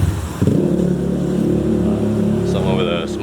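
On a Bangkok street, a loud vehicle with a loud exhaust revs in a rough, rumbling roar, close and steady, with a brief higher whine near the end and a voice talking over it.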